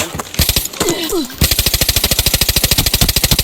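Rapid automatic gunfire from the video game Arena Breakout, a steady, evenly spaced stream of loud shots for about two seconds, after a short stretch of noisy rustling with a brief voice.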